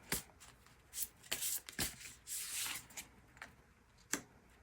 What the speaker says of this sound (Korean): 마지막으로 이번 분들을 위한 조언 카드 뽑아보려고 하는데요.